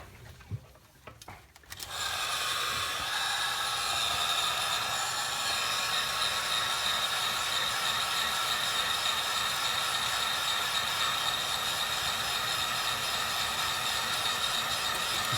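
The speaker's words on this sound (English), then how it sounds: "I'm going to use a heat gun" A heat gun blows a steady, loud, even whoosh while drying a sandblasted briar smoking pipe, starting after a short handling noise and running continuously.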